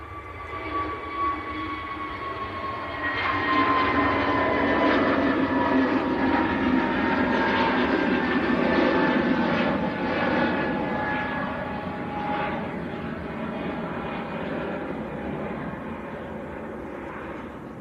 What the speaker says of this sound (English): this is the newly based A321 Neo